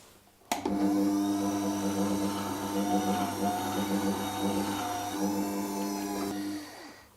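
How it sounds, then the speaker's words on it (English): A honing wheel machine starts with a sharp click and runs as a steady, loud whirring hum while a straight edge blade is sharpened to a razor finish, then winds down near the end. "One last go with the honing wheel."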